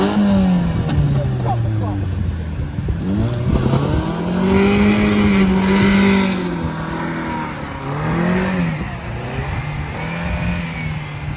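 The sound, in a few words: 4x4 engine revving on the rev limiter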